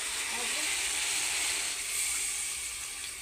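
Water poured into a pan of frying fish curry masala, setting off a steady broadband sizzle and hiss that holds at an even level throughout, close and continuous with no talk.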